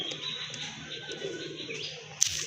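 A pair of white Chuina pigeons with pink beaks coo softly and low, a quiet murmuring call under faint chirps and background noise, with a brief sharp knock near the end.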